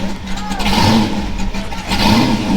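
A car engine revs loudly nearby, surging in two strong bursts with a rough, throaty roar.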